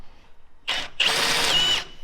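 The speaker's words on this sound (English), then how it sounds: "So I'm gonna finish drilling this hole." A power drill bores a hole through a large metal part, giving two close bursts of high whirring, a short one and then a longer steady run that ends abruptly.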